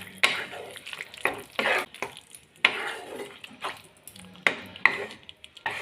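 Fried mushrooms are stirred into a thick yogurt spice masala in a pan, with a spoon scraping and clanking against the metal in irregular strokes over a soft sizzle, close and moderately loud.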